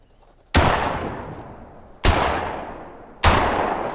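Three heavy shotgun blasts from a hunting rifle-style shotgun firing slugs in theHunter: Call of the Wild, each a sharp loud crack with a long rolling echo, spaced about a second and a half apart.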